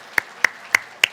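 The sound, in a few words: church congregation clapping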